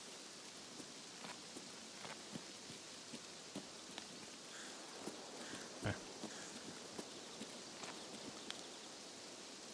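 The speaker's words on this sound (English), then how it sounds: "And the rain is deciding to start and stop." Rain in the video game Escape from Tarkov falls as a faint, steady patter of raindrops on surfaces, with scattered sharper drips over a quiet background.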